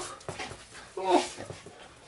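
A dog whimpers and whines in excited bursts at home on its owner's return, its high cries mixed with close, affectionate talk from a person.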